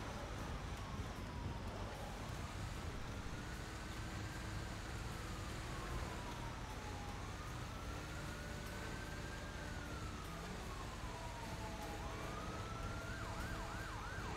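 A police siren wails in a roleplay driving game, a slow rising and falling tone that shifts to a faster yelp near the end, moderately loud above steady engine and road noise.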